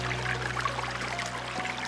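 Small stream, a tributary of Topanga Creek in a canyon bottom, with a steady, moderate trickle and gurgle of flowing water, continuous and close.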